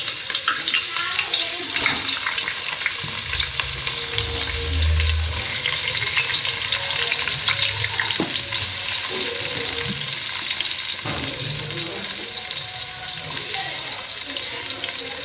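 Thinly sliced onions frying in about five spoons of hot oil, making a dense, continuous crackling sizzle close by that runs the whole way, with some low clatter and stirring mixed in.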